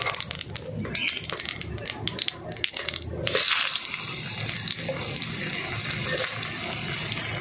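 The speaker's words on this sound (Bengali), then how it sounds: "এবার আলুগুলো দিয়ে দাও।" Potatoes dropped into hot oil in a pan tempered with cumin seeds while cooking Bengali fish curry, giving a loud, steady crackling sizzle that swells after a few seconds and keeps going without talk.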